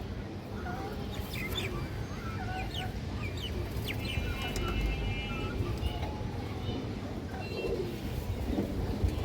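Pigeons coo and murmur among the birds at a busy market, with clucking chickens mixed into a constant crowd din and no single call standing out clearly.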